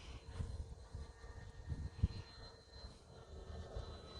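A Freewing A-10 Thunderbolt II RC jet with twin 80mm electric ducted fans, flying laps at a distance, a faint, steady whirring whine over low wind rumble.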